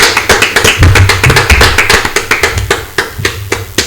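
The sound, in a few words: audience applauding to encourage someone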